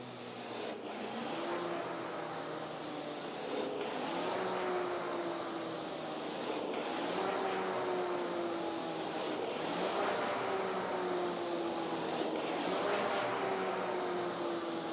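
Rowing machine strokes repeat roughly every three seconds, each a rising whir of the flywheel and a rubbing slide of the seat, steady and close with no talk.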